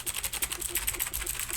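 Rapid keyboard typing during a video game show, a dense flurry of quick clicks mashed out in an uneven rhythm, close and fairly loud with no talk.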